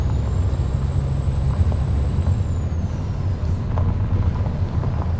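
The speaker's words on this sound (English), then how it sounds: "It is a beast of a truck. It's got a V12 in it." A Kenworth truck with a V12 engine drives in American Truck Simulator, its deep engine drone and road rumble steady throughout, with a faint high whine fading midway.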